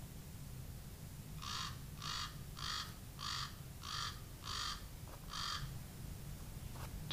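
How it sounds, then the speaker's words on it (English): A common raven gives a series of seven evenly spaced, hoarse croaking calls, moderately distant and clear over steady low background noise. "Common raven."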